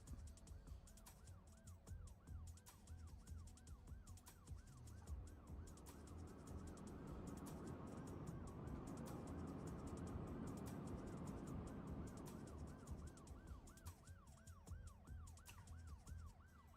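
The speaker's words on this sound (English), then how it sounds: "Where's this ambulance going?" An ambulance siren in the city-building game Cities: Skylines II wails steadily for the whole stretch, a repeating rising and falling tone over low traffic rumble, quiet and distant in the mix.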